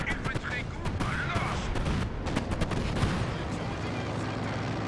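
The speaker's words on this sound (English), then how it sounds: "IL-2 precision and a direct strike." Air strike explosions and gunfire from an IL-2 attack aircraft in the World War II strategy game Company of Heroes 2, a dense rumbling barrage of blasts and shots with a commentator talking over it.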